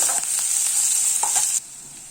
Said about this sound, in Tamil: அதையும் இதில் சேர்த்து நல்லா வதக்கலாம்.